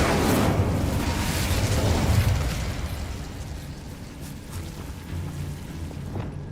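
A Confringo explosive spell blast in Hogwarts Legacy, a loud rumbling boom that swells for about two seconds and then fades into a long, softer tail, heard alone without speech.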